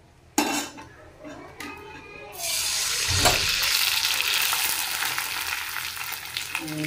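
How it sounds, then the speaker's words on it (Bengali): Madhuri papad frying in hot oil for a Rath festival offering: after a few clinks of utensils, a loud, steady broadband sizzle builds and holds to the end, with occasional scraping of a pan. "আর এখানে ভাজছি মাধুরী পাঁপড়।"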